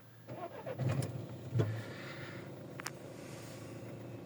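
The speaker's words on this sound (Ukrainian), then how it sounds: "Запускаємо двигун." A third-generation Renault Scenic's engine cranks briefly and catches, then settles into a quiet, steady idle inside the car, heard close with no talking.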